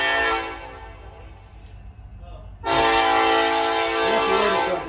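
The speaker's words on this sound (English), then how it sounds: "Until the train goes by." A passing train sounds a long, loud horn beside a Missouri Pacific caboose exhibit. The blast eases off somewhat, then swells back to full strength about halfway through and holds steady to the end.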